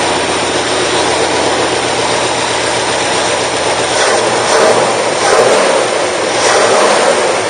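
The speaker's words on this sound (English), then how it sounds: "Let me rev it up a little bit." The 390 V8 in a 1964 Ford Galaxie 500, running loud and close in a steady idle before swelling through several rev-ups in its second half.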